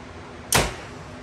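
An arrow shot from a bow tears through paper in a single sharp, close whoosh-snap that fades quickly against a faint steady background.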